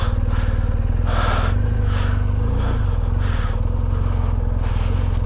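Motorcycle ridden over loose sand in Saudi Arabia, its engine droning steadily and loudly from start to finish with small swells in pitch and no talk over it.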